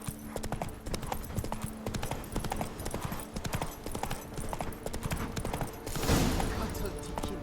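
Rapid clip-clop of a horse galloping in The Witcher 3: Wild Hunt, a steady drumming hoofbeat rhythm up close, ending with a brief burst of noise near the end, and game voices heard in between.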